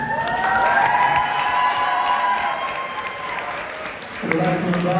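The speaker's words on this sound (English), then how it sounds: "Give a round of applause to him" Applause and cheering from the crowd at a school sports banquet honoring an athlete of the year, with a rising whoop over the clapping and a renewed burst near the end.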